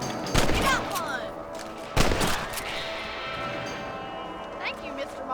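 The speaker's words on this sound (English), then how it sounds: "Kill those little monsters. Nice shooting." Gunshots in the video game Red Dead Redemption ring out as two sharp reports followed by a faint third, over a busy mix of game sound and speech.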